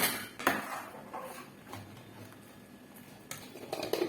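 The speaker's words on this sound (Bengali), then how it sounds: "আর এই বাকি দুধটার মধ্যে আমি চিনি মেশাচ্ছি।" Sugar is stirred into milk in a cooking pot for sweet rice payesh, a spoon clinking and scraping against the metal in a few short bursts, close and fairly quiet, with no voices.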